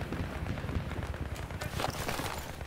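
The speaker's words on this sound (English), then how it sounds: "I can hear gunfire." Gunfire in Battlefield 3 multiplayer on the Strike at Karkand map crackles as a dense, continuous stream of rapid distant shots and impacts, busy and mid-level throughout.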